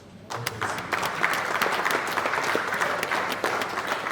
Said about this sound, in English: Round of applause again for our registrar